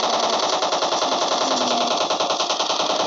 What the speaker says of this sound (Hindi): देखिए इतना स्ट्रॉन्ग गन है ग्रोजा